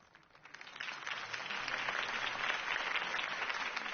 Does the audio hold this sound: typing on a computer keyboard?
no